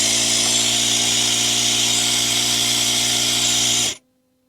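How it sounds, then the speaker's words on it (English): A Mercedes R-Class air suspension compressor runs with a loud, steady electric whine and buzz for about four seconds, then cuts off abruptly into near silence. "Okay, so I have the compressor hooked up."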